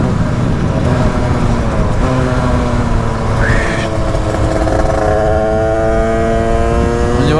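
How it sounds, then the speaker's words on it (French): A Derbi 70cc moped with a Metrakit kit revving loud and close as it shifts through the gears, its buzzing engine climbing in pitch, dropping at each change and climbing again, with traffic around. "Comme ça, on passe les vitesses."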